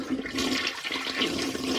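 A toilet flushes with a loud, steady rushing of water that fills the whole moment, close and continuous without any talking.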